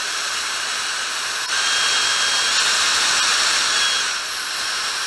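A Dyson fan heater blows air in a steady, even hiss that rises in strength partway through, holds, then eases back slightly, with no speech.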